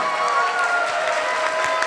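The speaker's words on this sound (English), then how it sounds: "Can we get one more round of applause?" Guests at a betrothal celebration clap after a performance, a brief burst of crowd applause with murmuring and a sustained tone mixed in, steady across its short span.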